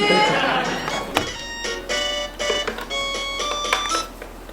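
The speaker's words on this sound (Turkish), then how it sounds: "Telefon çalıyor." A telephone rings in repeated electronic trills, a few evenly spaced bursts, with faint background noise and room sound.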